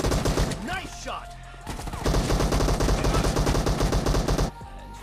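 Rapid automatic gunfire and single shots in a multiplayer shooter video game, dense continuous bursts with a short pause, loud and close, layered with game music and announcer-style effects.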